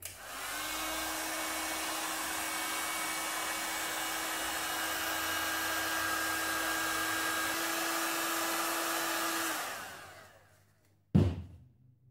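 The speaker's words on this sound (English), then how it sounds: "You just turn it on full heat and point it at it until it looks a bit brown" Heat gun running on full heat, a steady loud broadband blowing roar for about nine seconds while aimed at a Warhammer 40k purity seal prop, then winding down and cutting off, followed by a brief knock.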